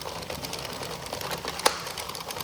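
An Addi knitting machine works through rows of a face mask warmer, giving a steady, dense mechanical whir with rapid repeating clicks and a sharp tick near the end, heard alone.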